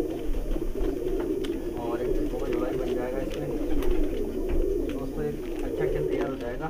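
High flyer pigeons coo with repeated soft throaty calls, close and steady throughout, with a few chirps from other birds and a constant busy background murmur.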